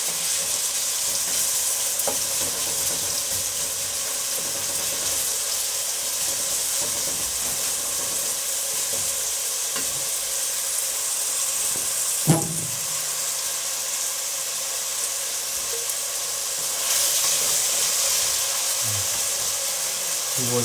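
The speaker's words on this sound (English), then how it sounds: "So I stir to make sure it is evenly cooked." African beans cooking in a pot, giving a loud, steady, hissing bubble and sizzle that runs the whole time, with an occasional clink of the stirring utensil and faint voices in the background.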